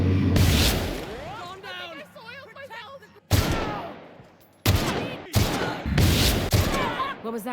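Gunfire in The Outer Worlds: sharp bursts of shots ring out in a loud cluster over the second half, with a voice talking over the earlier part.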